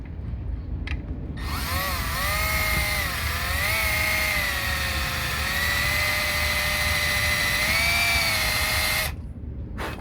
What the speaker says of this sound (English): Luckily it's aluminum, so it drills relatively easy.